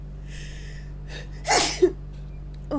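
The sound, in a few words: sneeze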